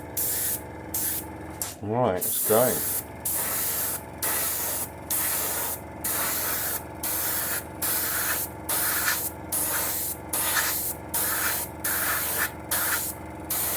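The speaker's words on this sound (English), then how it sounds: "got my airbrush there, got my humble there, just thin it down and start spraying." An airbrush sprays thinned Humbrol paint onto a Tamiya Panther tank model kit, a loud hiss in regular short bursts with brief gaps, and someone speaks briefly early on.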